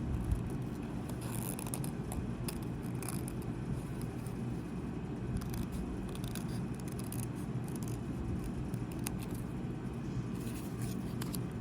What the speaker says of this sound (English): But I'm going slow, turning my scissors